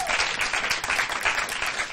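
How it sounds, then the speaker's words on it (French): An audience applauds gymnastics performers, with steady, close, enthusiastic clapping that holds at even strength throughout. "On les applaudit."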